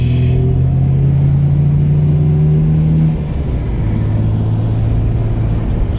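An R33 car engine cruising quietly around town, a steady low rumble with a slight drop in pitch midway, continuous and close with no pulls or revving.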